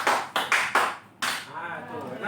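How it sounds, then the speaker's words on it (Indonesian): Five crisp hand claps ring out in a quick rhythmic pattern, four close together and then a final clap after a brief pause, during an Indonesian classroom clapping routine; a voice talks faintly afterward. "Tuh, enak bunyinya. Tepuk 5 kali."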